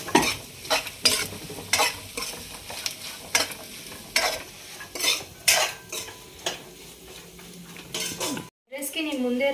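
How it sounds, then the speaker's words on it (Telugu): Salt, coriander powder and other ingredients are stirred together in a pan for egg fried rice, with rhythmic metal scrapes and clinks of a spoon over a light sizzle, ending in a brief pause. "వీటన్నిటిని మంచిగా మిక్స్ చేసుకుందాం."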